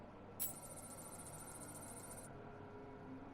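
A telephone rings once in the Batman Arkham City video game, a short burst of bright, shrill ringing that cuts off after about two seconds, faint against a quiet room-tone background with no talking.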